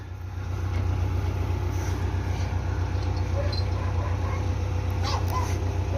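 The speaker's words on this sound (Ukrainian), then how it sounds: "Приїхав тракторний прицепчик, привіз." Tractor with a trailer on a Ukrainian farm, its engine running steadily at close range as a continuous low rumble, with faint scattered background sounds.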